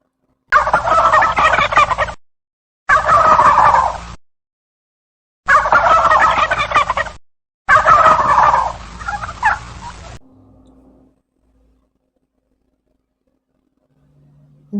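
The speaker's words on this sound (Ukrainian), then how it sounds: "Так, ці домашні птахи індики." Four loud bursts of domestic turkey gobbling, each about two seconds long with short pauses between, followed by a faint tail and near silence.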